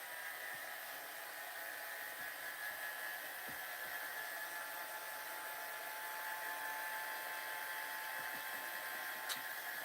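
A dryer blowing to dry a freshly painted craft piece, a continuous steady whooshing hum with a faint whine, moderately quiet and unchanging for ten seconds, with no talking.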